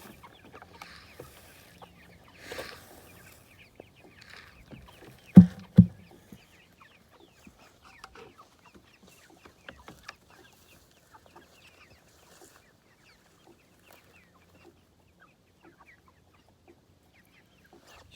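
Scattered clucks and soft murmurs from a few chickens in a quiet outdoor setting, with a couple of louder bursts partway through and long hushed stretches.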